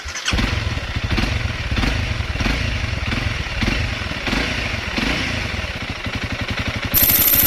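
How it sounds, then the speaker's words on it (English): A Honda CRF 300L motorcycle engine starting by push button, then a loud, close, steady single-cylinder idle with a rapid even putter, rising at the end. "The Honda 300L starts with a push button start."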